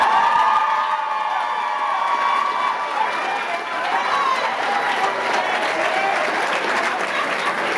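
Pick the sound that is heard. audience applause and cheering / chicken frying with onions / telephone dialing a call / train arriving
audience applause and cheering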